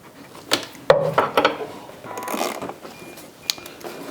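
A ratchet wrench works on the motor bolts of a car, giving a few irregular close clicks and creaks between pauses, without talk.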